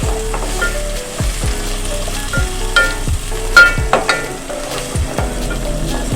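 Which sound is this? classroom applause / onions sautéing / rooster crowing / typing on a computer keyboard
onions sautéing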